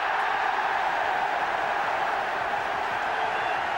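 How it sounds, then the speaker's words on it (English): Football fans cheering at a Luton Town versus Spurs match, a steady, broad roar of the stadium crowd held evenly for a few seconds with no single voice standing out. "cheering"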